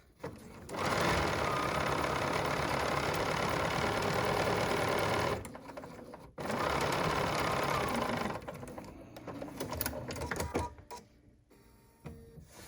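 A BERNINA sewing machine with an Edgestitch Foot #10 runs steadily in two long, close bursts with a brief pause between them, then slows to uneven, softer stitching before stopping.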